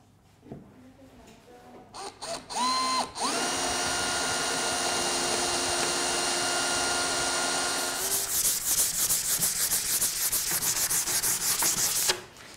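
A few scrapes and knocks give way to steady, rhythmic sanding with sandpaper that rasps back and forth across a melamine furniture surface, continuing to the end.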